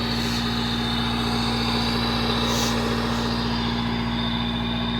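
A Honda Civic engine idles through a short ram cold air intake, a steady, loud, droning hum with a constant low pulse running unbroken and close by, with no revving and no voices.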